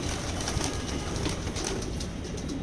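Pigeons kept as pricey racing birds cooing softly amid a dense, hissy outdoor background, the low murmuring calls faint and steady throughout.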